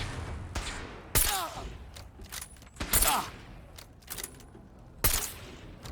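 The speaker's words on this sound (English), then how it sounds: "I guess shooting him in the leg is not effective." Gunfire in the video game Fallout 4, several sharp bursts of shots scattered over a few seconds, each loud and punchy with ringing tails, spaced irregularly against quieter game ambience.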